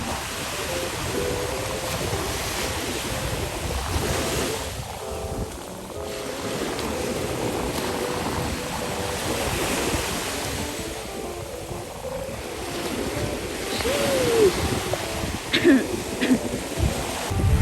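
Sea surf at a La Union beach, a continuous broadband wash of breaking waves with heavy wind buffeting the microphone, steady throughout and swelling louder near the end.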